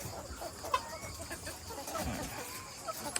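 Farm chickens in a hot-weather poultry house cluck softly and intermittently at a distance, a faint, low-level murmur of fowl with a few sharper calls.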